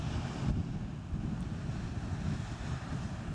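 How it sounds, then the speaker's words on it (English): A river running past a tent pitch in Jotunheimen National Park, fed from a nearby waterfall, gives a steady broadband rush close by, mixed with gusts of wind buffeting the microphone. "Just here in the back there is a nice river."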